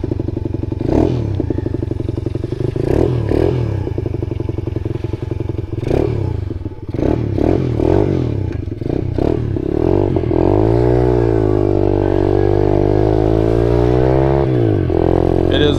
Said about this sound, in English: cold start and she fires right up